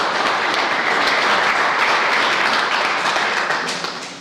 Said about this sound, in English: So please applaud Roisin McMahon.